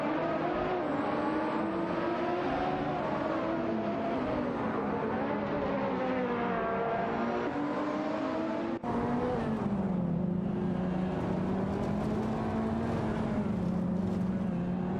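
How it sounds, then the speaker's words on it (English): In a racing video game, a McLaren 570S and a Lotus Exige S duel with continuous loud engine drones, their pitch rising and falling through gear changes and acceleration, with no one talking. "The two are now locked in an intense duel for that coveted P13, with Bot Smurf 20 in a McLaren 570s, and Bot Marty Freeze in a Lotus Exige S."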